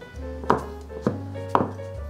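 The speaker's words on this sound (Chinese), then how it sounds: "把杏鲍菇切条，每种食材用一点点，加起来就会很多。 接着切碎" Knife chopping king oyster mushroom on a cutting board: a few sharp, evenly spaced strikes about half a second apart, heard close over a steady low background hum.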